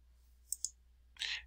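A computer mouse gives two quick, faint clicks in a quiet room, followed by a short soft rustle.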